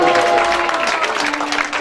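Applause from a congregation in church acclaiming Jesus at a Sunday service, dense crowd clapping, loud and sustained, with voices calling out over it.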